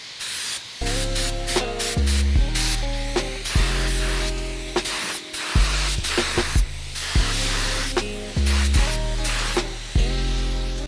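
Epoxy primer sprayed onto a bare-metal Brembo brake caliper: a steady, close hiss of spray in repeated passes, with a tonal droning hum from a compressor or music underneath and no voices.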